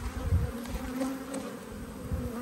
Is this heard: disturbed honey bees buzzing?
yes